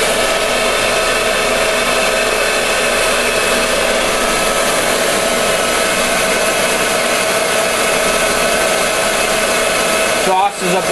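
A prototype two-pound electric fluid bed coffee roaster runs its variable-rate exhaust at full speed, a loud, steady blowing roar with a constant whine, unchanging throughout until a brief clunk near the end.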